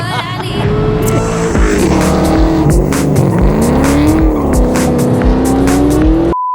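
A 2003–2004 Terminator Cobra engine revs hard through a newly installed aftermarket exhaust with a loud, raspy note, pitch rising and falling through several sustained pulls, close and continuous before cutting off abruptly.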